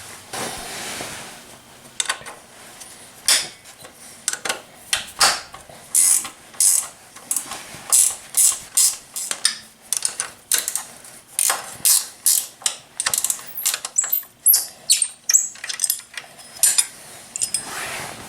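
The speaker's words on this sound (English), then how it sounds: "now we're going to remove this bracket right here by removing these two 12mm bolts right here" A ratchet wrench loosens two 12mm bolts holding a bracket on a Honda CRF1000L Africa Twin motorcycle. Close, crisp bursts of rapid clicking repeat with short pauses between strokes.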